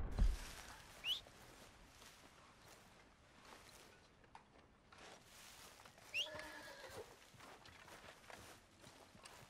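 A horse in Red Dead Redemption 2 gives two faint, brief whinnies over quiet game ambience, with soft hoof steps in between.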